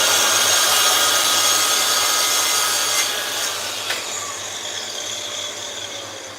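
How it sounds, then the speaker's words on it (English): A power saw cuts freehand through oak rails for veneer panels, a loud steady whining buzz that fades slightly toward the end with a couple of sharp clicks, close by and without speech. "I can slide the saw over and use the stop if I wish, but I'm just going to go freehand on these"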